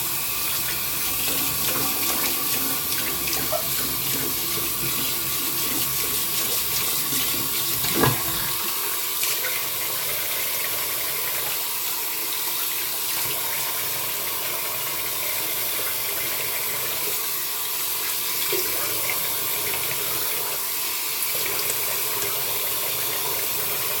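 Water runs steadily from a tap for the whole stretch as a constant close hiss, with a brief clunk partway through and no talking.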